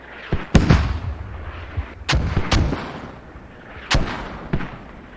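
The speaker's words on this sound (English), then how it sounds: "he's just waiting for these mortars to cease" Mortar fire in the Squad tactical shooter, a series of heavy booming blasts arriving in uneven clusters, some sharp and close with rumbling tails, others slightly softer, with no talk over them.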